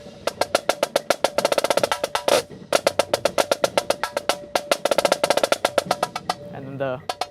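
Close, loud snare drum from a 2018 Vandegrift drumline break works slowly through a triplet phrase, dense strokes with a brief buzz roll midway and a faint voice at the very end.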